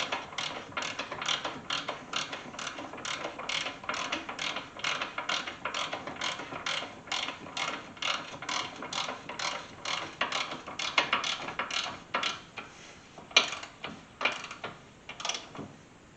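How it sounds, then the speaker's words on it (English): Steady rapid ratchet clicking as a ball joint is tightened on a 1991 Chevy truck during lowering work, dozens of close, even strokes that slow and break into a few separate pulls near the end. "we're going to go ahead and tighten up our ball joint"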